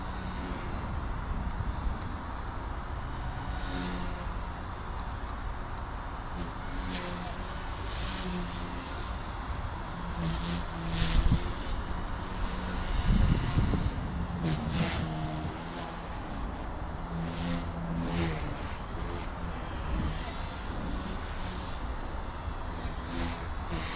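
An XK K110s collective-pitch RC micro helicopter flies in a breezy backyard on a 60% flat throttle curve, its rotor giving a steady high whine with faint wind noise throughout.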